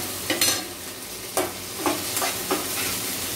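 Onions fry in a pan for dal, hissing steadily up close while a spoon scrapes and stirs in several separate strokes.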